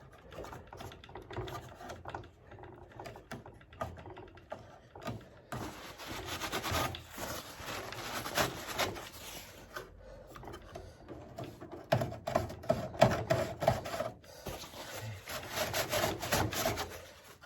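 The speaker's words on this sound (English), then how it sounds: "Just wiping the excess Sino away and making sure everywhere is stuck down." Excess CA glue is wiped off a balsa-wood RC model airplane build, producing close, intermittent rubbing and scraping strokes that grow busier toward the end, with no talk.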